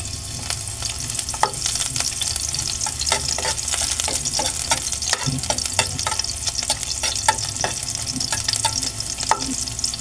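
Chopped garlic sautéing in hot cooking oil for ginisang ampalaya with ground pork, a steady close sizzle with crackling pops and scattered scraping stirs throughout, no voices.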